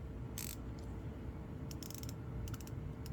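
Someone turns an ARES 72-tooth offset comfort grip quarter-inch ratchet, producing short dry bursts of fine clicking with brief pauses between strokes over a steady low background hum.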